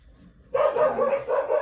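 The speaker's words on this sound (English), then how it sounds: "Sorry about the dogs." Several dogs break into sudden, loud barking after a brief quiet moment, a dense overlapping burst of barks that continues steadily to the end.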